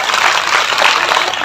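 A crowd claps steadily together at a religious discourse during a Bhagavat katha, a dense and even wash of applause that stays loud for the whole moment.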